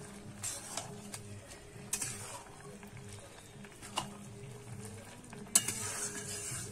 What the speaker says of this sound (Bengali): এবারে আমি কিন্তু ভালো করে নেড়ে নেব।